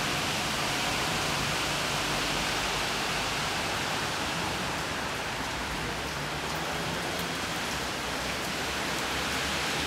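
Steady rain pours down in a dense, even hiss with no breaks, loud and enveloping throughout, falling on outdoor surfaces with no voices.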